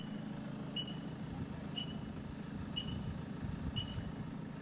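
Dragon car alarm anti-hijack system on a Ford Focus ST sounding regular short high chirps about once a second, four evenly spaced beeps over a steady low engine idle rumble, no talking.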